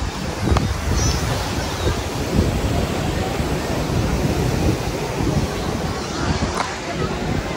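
Sea waves washing onto the shore with wind buffeting the microphone, a continuous loud surf roar with occasional gusts and soft breaking swells, close by and unbroken.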